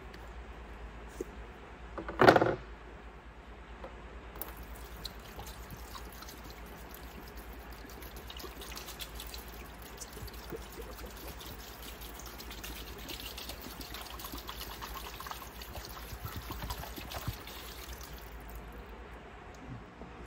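Vinegar poured over an old rusty shear in a container: a brief splash-like burst near the start, then a soft, steady trickling and liquid wash continuing quietly for the rest of the span.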